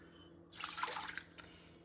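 Water poured from a measuring cup into a cooking pot while making egg bites, a short splashing pour of about a second, close and fairly quiet, ending in a few drips.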